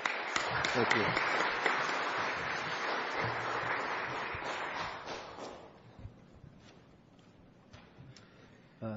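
A seminar audience bursts into loud, sustained clapping for about five seconds, which then thins out and fades into a quieter room with scattered taps and a few murmurs.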